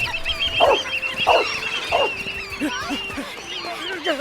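Birds in the video game My Little Puppy honk in a short series of three loud calls, followed by softer ones. Twittering calls and a steady game tone run underneath, with no talking.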